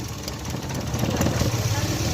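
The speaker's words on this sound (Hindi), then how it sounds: "अभी इसको जैसे निकालूंगा इंजन वाइब्रेशन करेगा।" A car engine idling unevenly after one ignition coil is pulled, giving a rough, low, continuous rumble with slight pulsing, close by and fairly quiet.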